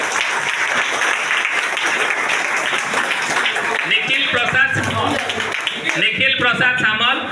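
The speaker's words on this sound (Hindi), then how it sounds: "ताली गोटे बड़ ताली हो" A school audience applauds at a science exhibition prize distribution, a broad wash of clapping filling the hall before a voice over the loudspeaker takes over and talks on.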